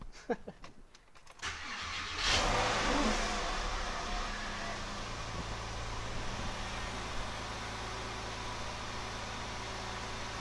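A Porsche 997 with a misfire fault and freshly fitted coil packs cranks over briefly, catches with a loud surge, then settles into a steady, even idle that continues close by without speech.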